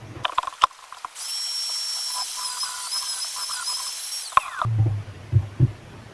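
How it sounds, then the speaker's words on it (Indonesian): A grinder works on the worn clutch lining marks of an old Honda Supra motorcycle engine, running a steady high-pitched whine for about three seconds, framed by metallic clicks and handling knocks before and after. "lebih baik kita gerinda saja"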